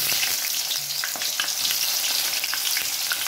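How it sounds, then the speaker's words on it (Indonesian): Tempeh sizzles in hot oil as it fries, giving a steady, close crackle with scattered sharper pops and no voices. "Minyaknya udah panas, kita masukkan tempe sama tahu aja."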